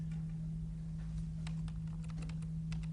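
Computer keyboard keys pressed a few times to adjust volume, quiet scattered clicks over a steady low hum.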